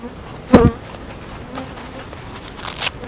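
Honeybees buzzing around a beekeeper at an open hive, a faint intermittent drone beneath a couple of short loud bursts of nearby noise.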